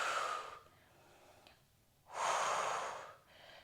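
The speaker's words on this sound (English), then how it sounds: "Breathing in through the nose and out through the mouth." Close, audible breathing during a Pilates glute workout, in through the nose and out through the mouth: two long airy breaths with a quiet pause between and no talking.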